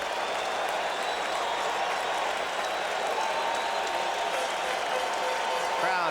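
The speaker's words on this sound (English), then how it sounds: "Crowd making the kind of noise it normally makes for Dwight Gooden. They want another strikeout." Baseball stadium crowd at the 1986 World Series Game 7 roaring and cheering for a strikeout, a continuous loud wall of massed voices and clapping with no break.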